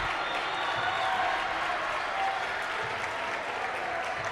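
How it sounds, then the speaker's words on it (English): Pratt Greenbacks basketball fans applaud and cheer loudly in a gym during a game against Wichita Collegiate, a steady dense roar of clapping and crowd noise with commentators' voices faintly beneath. "they're cheering pretty loudly here"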